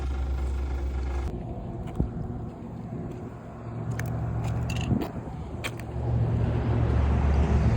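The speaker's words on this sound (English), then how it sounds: "Traffic finally lit up a little bit. It's been busy." Vehicles pass along a busy main highway beside a roadside walker, a steady low rumble with swells as cars go by and a heavier roar building toward the end.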